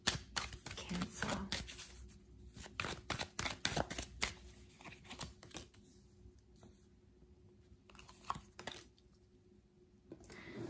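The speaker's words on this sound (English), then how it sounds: "let's give the cards a good shuffle" Tarot cards being shuffled by hand in bursts of crisp riffling and flicking, close and quiet, with short pauses between bursts.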